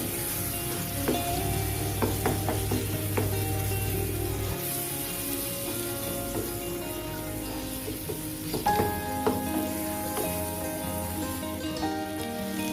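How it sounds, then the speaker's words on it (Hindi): Goat brain (maghaz) fries in oil on a tawa with a steady, close sizzle that runs the whole time, broken by a few sharp clinks of a spoon or spatula. "यहाँ पर हम शामिल करेंगे जी अपना मगज़ और इसको हम सिर्फ 5 मिनट के लिए पकाएंगे इसमें"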